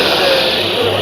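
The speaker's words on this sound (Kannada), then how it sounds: "ಇದು ಬ್ಯಾಟ್ರಿ ಆಪರೇಟೆಡ್ ವೀಡ್ ಕಟ್ರ್ ಆಯಿತಾ." A battery-operated weed cutter runs at an agriculture expo, a steady electric motor whine held for a second amid busy background noise.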